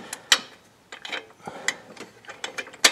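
Socket wrench on an extension ratcheting a serpentine belt tensioner bolt on a 2006 Honda Ridgeline 3.5L, giving a few short, close metallic clicking bursts separated by brief pauses.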